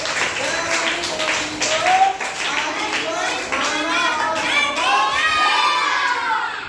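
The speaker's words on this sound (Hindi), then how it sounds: "शाबाश, जोरदार ताली बजाइए" A class of schoolchildren breaks into a loud, sustained round of clapping mixed with excited shouts and cheering, the applause continuing steadily throughout.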